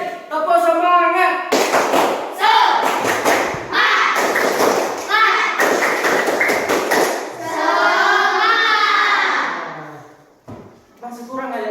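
A group performs 'tepuk semangat', a rhythmic clapping chant, with sharp patterned claps in quick bursts mixed with voices chanting loudly along, close by.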